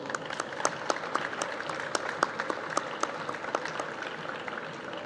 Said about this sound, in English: Please, big applause for Agnes Engetic